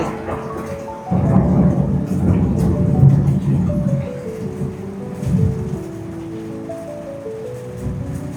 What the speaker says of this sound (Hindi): बिजली कड़की, बहुत भयंकर।